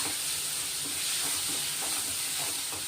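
Bitter gourd sautéing in a hot pan, giving a dense, steady sizzle and hiss with soft stirring scrapes throughout, close and continuous, no voices.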